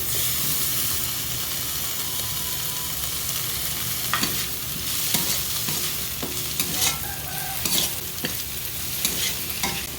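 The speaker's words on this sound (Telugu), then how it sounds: "మెంతికూర ఆయిల్లో వేగుతుంటే" Fenugreek leaves and onion fry in hot oil with a loud, steady sizzle, while a spoon stirs and scrapes the pan repeatedly through the second half.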